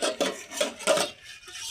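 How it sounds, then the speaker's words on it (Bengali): Metal lid lifted off a cooking pot of capsicum and potato curry, a few close scraping clanks and rattles of metal against metal in quick succession. "বন্ধুরা, তো আমরা এখন এই ঢাকনাটাকে সরায় নেব।"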